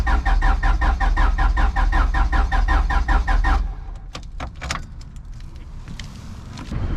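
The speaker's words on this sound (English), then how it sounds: "It just cranks and cranks." Turbo-charged H2B engine cranking without catching, a steady rapid rhythmic churn for about three and a half seconds, then stopping into quieter ambient noise with a few faint clicks.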